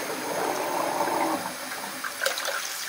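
Cold tap water gushes into a basin being filled to wash a pet rat, a loud steady rush that thins and trails off near the end, with no voices.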